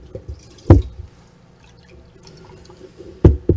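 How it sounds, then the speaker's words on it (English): Filtered water poured into a dish while cooking crab spinach fettuccine, heard as two short splashing bursts separated by quieter gaps, close and fairly loud. "I'm going to add some nice water to this,"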